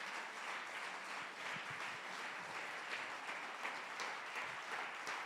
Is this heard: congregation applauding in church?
yes